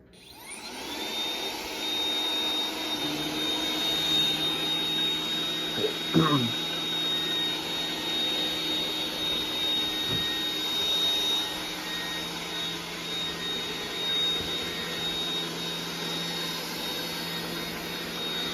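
A Roomba 980 robot vacuum runs with a steady, continuous whirring drone and a high motor whine, with a couple of brief bumps partway through.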